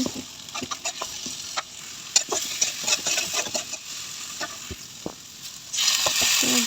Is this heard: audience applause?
no